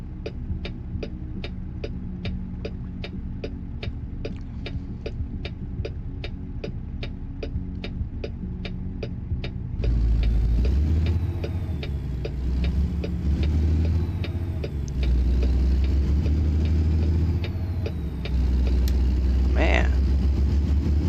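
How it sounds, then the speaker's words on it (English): A car drives alongside a Kenworth W900 truck on Interstate 8, its road rumble and engine noise swelling loudly over the steady truck drone about halfway through, with a regular ticking heard before it. "That car next to us."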